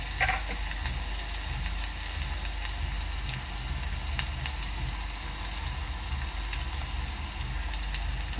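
Chopped onion cooking in a pan for a Koli-style dried karadi fish dish, giving a continuous soft sizzle and crackle with scattered small pops, close and steady, without speech.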